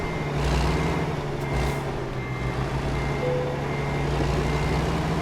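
In American Truck Simulator, a truck backs up with steady repeating reversing beeps over a low idling engine rumble, with a faint air-brake hiss partway through.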